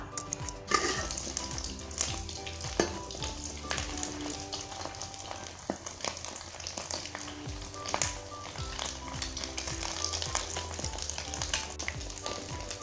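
Eggs sizzle and crackle in a hot pan, a steady close frying hiss with scattered pops and occasional utensil taps, no talking.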